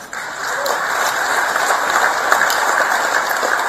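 Audience applause at a Megawati Soekarnoputri political speech, a steady dense wash of clapping from a large crowd that holds evenly throughout with no clear pauses.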